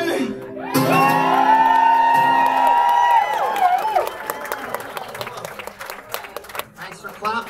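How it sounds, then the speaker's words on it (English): Concert crowd at the Grog Shop in Cleveland, Ohio, bursting into loud applause with whoops and shouted cheers right after a sustained guitar chord rings out and fades, the clapping continuing in a dense, close wash. "Thanks for clapping."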